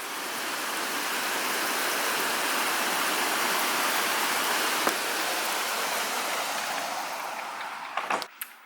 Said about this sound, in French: Donc là c'est la tempête de pluie, ça y est.